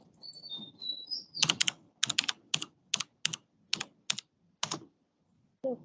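Close, quiet typing on a computer keyboard, a series of about ten distinct clustered keystroke bursts at an uneven rhythm, preceded by faint chirping tones and soft background noise.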